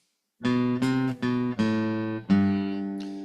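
A guitar plucks a short run of eighth notes from a song, each attack distinct and ringing briefly, played alone and fairly close with a quickening rhythm.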